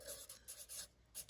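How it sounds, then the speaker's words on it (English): Pen scratching on paper in short bursts of writing strokes separated by pauses, close and faint, no voices. "I'm going to write it down so I don't forget."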